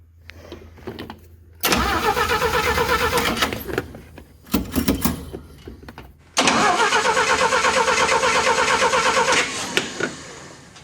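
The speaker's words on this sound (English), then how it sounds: "Let's give it a little choke because it is cold." A cold small engine with a carburetor problem is cranked on choke in several bursts, sputtering, catching briefly and dying between attempts, then running loud and steady for a few seconds before cutting out.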